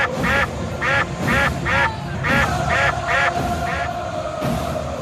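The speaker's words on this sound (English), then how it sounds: "Ducks all over the pond." Ducks quack on a pond in about nine repeated bursts, close and fairly loud, with a steady faint hum underneath and no talk.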